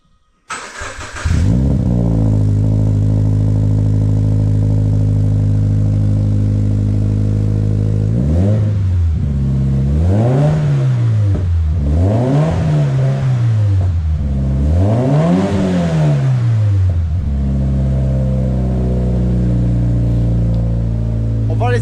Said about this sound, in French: on va la démarrer et voir le rendu